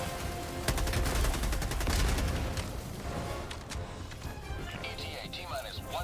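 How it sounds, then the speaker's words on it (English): Enemy gunfire aimed at the player in Warframe, a dense rapid rattle of shots over busy game noise, with a voice talking across it. "Oh my god, stop shooting me!"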